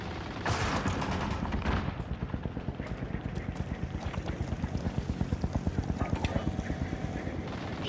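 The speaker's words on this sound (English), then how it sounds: "Mercenaries calling a supply chopper to offload their cash reserves" Helicopter rotor chopping steadily from a supply chopper in a video game, with a dense rhythmic thump running the whole time under bursts of gunfire and game noise.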